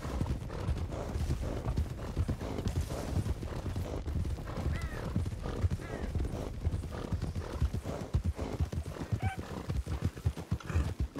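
Horse hooves clip-clop steadily in the RedM western roleplay game, a close, continuous walking rhythm with occasional whinnies, under light talk.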